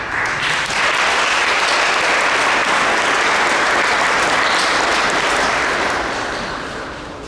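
Sustained audience applause at an outdoor highway dedication honoring Sheriff Lucius D. Amerson, steady dense clapping from a crowd throughout that tapers off slightly at the end.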